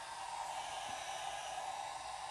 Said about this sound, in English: And I'll use my blow dryer on the low setting